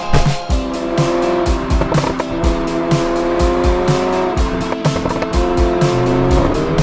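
A 2018 Mercedes-AMG GLA45 hot hatch driven hard: a loud, near engine drone that climbs and drops through repeated rapid gear changes, with tire noise underneath and no talking.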